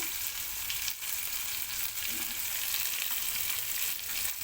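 Onions sizzle in plenty of hot oil for a bitter gourd curry, a steady dense crackling hiss that stays close and even throughout with no voices.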